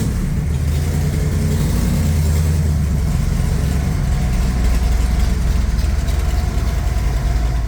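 A 1965 Shelby AC Cobra engine rumbles loud and close, a deep steady idle with mild throttle swells carrying through the whole stretch, no talk.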